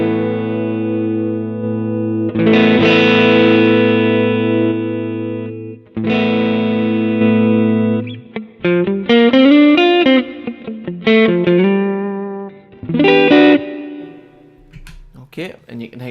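An electric guitar runs through a Fractal Audio AX8 with a boost engaged, loud and distorted: long sustained chords first, then a busier run of quick lead notes with pauses between phrases.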